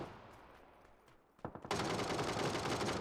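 Rapid automatic gunfire from a shooter video game bursts in suddenly after a quieter stretch and then sustains as dense, loud, continuous firing.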